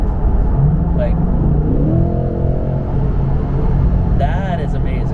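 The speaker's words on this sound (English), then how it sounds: "When you accelerate in this thing, being able to hear the engine right behind your head is fucking awesome." C8 Corvette mid-engine V8 accelerating from inside the cabin, a steady loud rumbling drone that rises in pitch behind the driver, with people talking over it.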